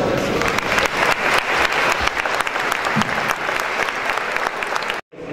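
Audience at the 2015 Chihuahua International Festival in Cuba bursts into loud, sustained clapping, a dense crowd applause that runs steadily before cutting off abruptly near the end.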